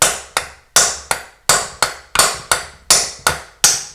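A hammer strikes a nut on an Olds 455 engine about ten times in an even, sharp rhythm, each close, bright metallic blow ringing out briefly before the next.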